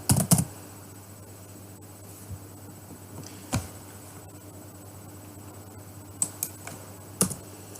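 Sparse keystrokes on a computer keyboard, a few isolated taps and short bursts of typing close up in a quiet room, with long pauses between them and steady low hum underneath.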